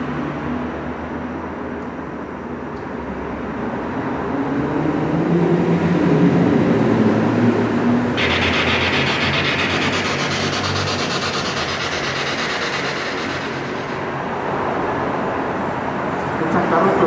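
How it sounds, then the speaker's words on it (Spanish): Steady broadband rush of cars passing on a road outside a building, continuous and moderately close, with a brighter hiss swelling mid-stretch, while people talk quietly underneath. "Se escuchan carros, pero ya no se escuchan tantos."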